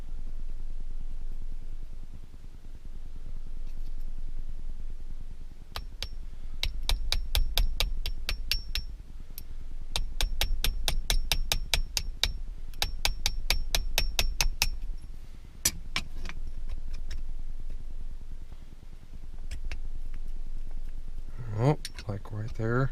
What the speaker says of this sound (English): hammer in a roll pin